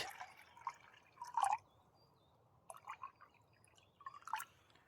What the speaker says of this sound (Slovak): Dáme si troška vodičku uvariť.